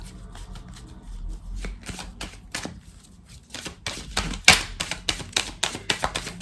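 Oracle cards shuffled for a relationship reading, starting soft and sparse, then building into loud, crisp riffling bursts and rapid slaps near the end, close to the microphone, with no voices.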